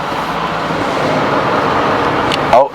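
A Rolls-Royce driving around central London, a steady broad road and engine rumble throughout with no talk, ending in a brief louder swell.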